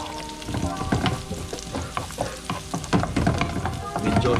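Garlic sautéing in a hot pan for Filipino tinola fish, a busy crackling sizzle of frying with irregular stirring clicks and pops, close up and continuous, with no speech.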